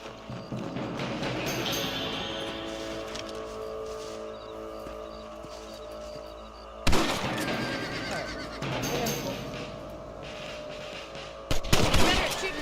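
Rifle shots aimed at rabbits in the Western game Red Dead Redemption, a few sharp cracks spaced well apart over a steady outdoor game ambience with horse sounds, no talk during the shots.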